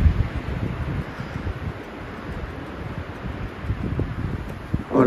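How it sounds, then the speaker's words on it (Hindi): Strong cold wind blowing across a lake viewpoint near Skardu, a loud, steady roaring gust buffeting the microphone with rustling noise throughout, no voices. "आपको ये हवा की आवाज़ भी आ रही होगी, ज़बरदस्त ठंडी हवा चल रही है।"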